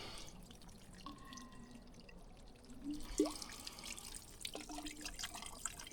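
Water trickles on a mountain ridge of Mount Sir Donald, a faint, quiet flow with a few small drips and splashes close by, no voices.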